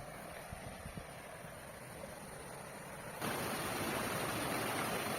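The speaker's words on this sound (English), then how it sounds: "So now let's have a look at the stream and the waterfall." A woodland stream and small waterfall beside a countryside house in Santa Catarina, Brazil, rush with a steady broadband roar that grows noticeably louder and closer partway through.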